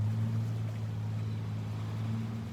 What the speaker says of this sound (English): And maybe there is some boats on the sea, and you can hear their sounds.